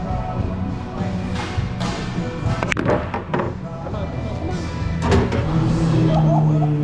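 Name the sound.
pool shot, cue ball striking billiard balls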